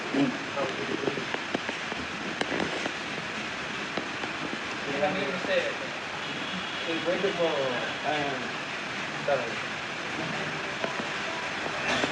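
Rain pours down beside an outdoor film shoot, a constant soft hiss running beneath people talking throughout.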